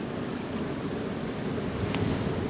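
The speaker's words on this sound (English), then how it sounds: "Here's the ocean pushing through" Ocean waves surge and push through during a king tide at Imperial Beach, a steady broad wash of surf with wind noise on the microphone, constant and fairly loud with no voices.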